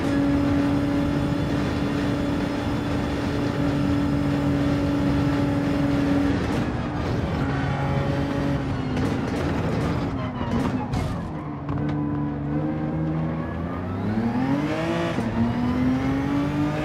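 Genesis X GR3 race car engine in Gran Turismo 7 at Deep Forest Raceway Reverse, a loud sustained drone with gear shifts, throttle lifts and rising revs, with a brief voice under it.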